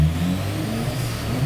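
A Mitsubishi Evo 9 engine runs on a dyno with a steady, loud droning hum, its pitch holding fairly even with slight rises across a short stretch and no voices.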